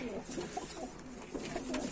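A pigeon coos softly a few times, low and rounded, against a quiet hissy background.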